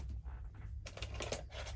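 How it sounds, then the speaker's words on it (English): A pair of crunchy scissors cuts through paper with a quick run of crisp, close snips and crackles. "Get the crunchy scissors."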